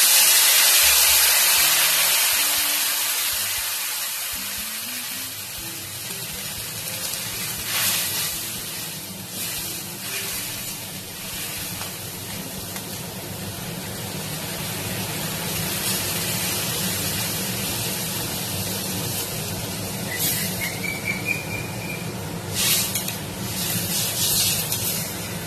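Water hits a hot pan of hilsa fish curry with potato and eggplant, setting off a loud, sustained sizzling hiss that settles into a steady simmering crackle.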